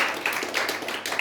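An audience applauds to thank a speaker after a talk on Falkland Islands spiders, with brief, dense, continuous clapping.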